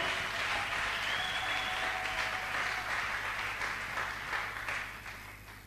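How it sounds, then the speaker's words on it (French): A church congregation applauds loudly and steadily for the king of glory, a dense wash of clapping from many hands that fades slightly toward the end. "Est-ce qu'on peut l'acclamer très fort?"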